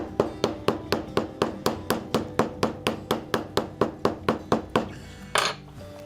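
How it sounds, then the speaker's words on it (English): A hammer strikes leather for a 1911 pistol holster repeatedly in a steady, even rhythm, around twenty sharp knocks close by, slowing slightly before a final louder hit. "I like hitting things with hammers."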